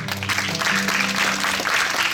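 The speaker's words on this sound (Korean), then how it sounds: "우리 박수로 주님을 경배하십시오" A worship congregation at a joint university winter prayer gathering applauds together, sustained even clapping under a held musical tone, steady and full throughout.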